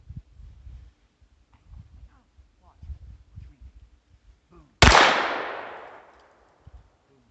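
A single loud, close gunshot from a Taurus TX22 pistol fired at an outdoor family shooting session, cracking sharply and trailing off over about two seconds, preceded by quiet talk.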